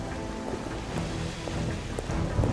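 Steady rain hisses and patters without a break, a dense, even wash of falling drops with a faint low rumble beneath.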